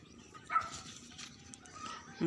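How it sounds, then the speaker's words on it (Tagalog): A faint dog bark, then another brief yelp at the end, against quiet background noise and distant voices. "Di aso nga nagay-ayam"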